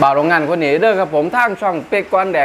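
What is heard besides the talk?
No everyday noises stand out.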